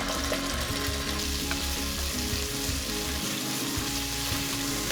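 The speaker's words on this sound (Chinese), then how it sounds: "油热以后把花椒、生姜片还有尖椒放进去炒出香味， 再倒入大约1大勺的豆瓣酱一起炒" Sichuan peppercorns, sliced ginger, chili and doubanjiang stir-fried in hot oil, a steady close sizzle with occasional scraping stirs throughout, no voices.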